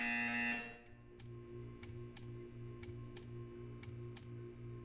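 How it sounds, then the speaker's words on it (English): A repeating electronic buzzer from the video game Portal 2 sounds about once a second in an even, steady pulse over a constant hum, following a brief louder tone at the start. "You will hear a buzzer."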